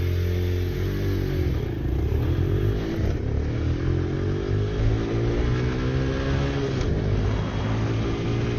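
A 2018 Venom X22 125cc motorcycle is ridden, its small single-cylinder engine droning steadily and loud, pitch rising and falling as it revs through gears amid wind rush.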